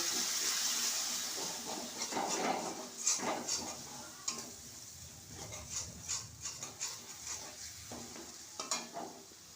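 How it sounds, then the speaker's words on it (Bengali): Onion, ginger and garlic being stir-fried with coriander and cumin, with a soft sizzle under repeated scraping stir strokes, quiet and close, no talking. "পেঁয়াজ আদা রসুন ভাজা হয়ে গেছে এবারে ধনে জিরে দিয়ে ভালো করে কষে নেব"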